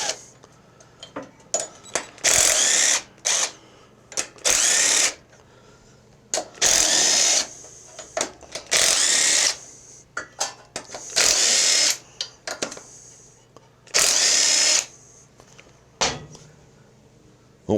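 A power tool drives the cylinder head bolts tight on a refurbished Craftsman riding mower, firing in about eight loud, close bursts of whirring and rattling separated by short quiet pauses and faint handling clicks.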